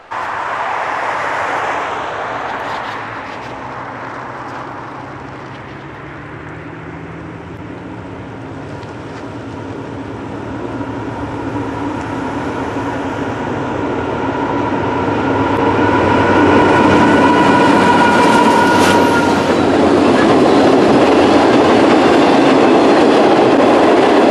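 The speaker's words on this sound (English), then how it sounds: "a daily Bellevue to Portsmouth, Ohio manifest freight train" A Norfolk Southern manifest freight train led by a rebuilt GE AC44C6M locomotive rumbles past at close range in winter, a loud continuous roar of rolling cars with rhythmic clatter that swells toward the end.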